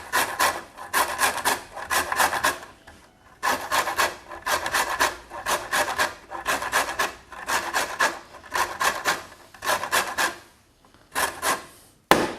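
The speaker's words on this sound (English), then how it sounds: "the other lemon, we'll take the zest and the juice" A lemon is zested on a grater for a warm green quinoa salad. Quick rhythmic scraping strokes come in short clusters with brief pauses, close by and moderately quiet, with no voices.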